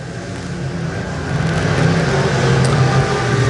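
E-Mod race cars lap a dirt track in a racing video game, their engines droning and building in a steady, loud roar that swells toward the end, with no speech.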